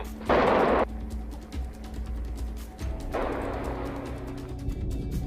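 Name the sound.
depth charge exploding underwater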